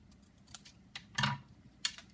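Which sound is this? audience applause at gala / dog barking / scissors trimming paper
scissors trimming paper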